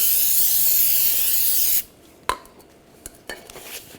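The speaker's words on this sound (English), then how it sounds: "Now we'll take some brake parts cleaner and just clean off the rotor surface." Brake parts cleaner hisses from an aerosol can onto the rear brake rotor of a 2009–2010 BMW 535i xDrive in a long, close, steady spray, followed by a few light metallic clicks and taps.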